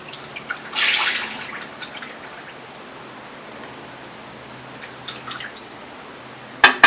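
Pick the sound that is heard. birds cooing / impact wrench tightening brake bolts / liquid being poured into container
liquid being poured into container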